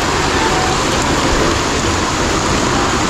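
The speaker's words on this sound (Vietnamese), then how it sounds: "Mưa lớn lắm mọi người ơi" Heavy rain pours down in a steady, dense hiss, loud and close throughout with no pauses or voices.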